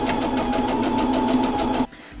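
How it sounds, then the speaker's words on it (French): A sewing machine stitches the first strip of black fabric for a Halloween tote bag, running steadily and loudly with a fast, even pulse for about two seconds before stopping abruptly. "c'est parti, je couds la première bande"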